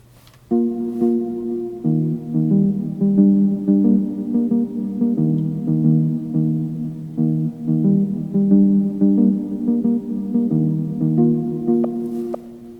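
A sustained synth melody of held, layered notes with delay, distortion and reverb rings out with a washy, echoing tail, steady and loud throughout with no voices.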